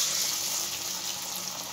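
Vada patties sizzle in hot frying oil, a bright steady hiss that stays moderately faint and continuous over a brief moment, with no voices.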